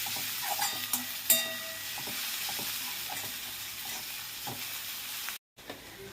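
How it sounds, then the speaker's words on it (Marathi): Garlic paste and turmeric are stirred in a hot pan, with a continuous frying sizzle broken by spoon scrapes and clinks, then a brief silent gap near the end. "सगळं मिक्स करून घ्यायचं व्यवस्थित"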